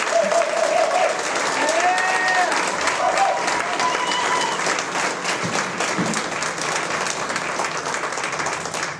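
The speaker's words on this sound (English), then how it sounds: "Can everybody please give a round of applause" Sustained audience applause at a city community conversation on public safety, a dense, steady wash of clapping from a crowd with some whoops mixed in, lasting the whole stretch.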